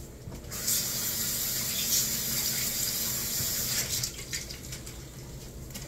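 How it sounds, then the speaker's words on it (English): A kitchen tap runs steadily as an egg is rinsed under it, a close, even rush of water splashing into the sink for several seconds. "I also rinsed off that egg so that it does not get stuck by drying white"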